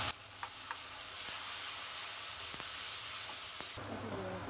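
Fried onions sizzle with a ginger, cumin, garlic, onion and chili spice paste in a pan, a quiet, steady frying hiss broken by a few soft clicks of stirring.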